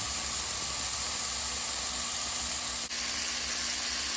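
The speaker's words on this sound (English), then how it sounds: "So we have our ground beef cooking" Ground beef sizzling in a hot pot for chili, a steady loud hiss of frying that runs without a break, with no talking.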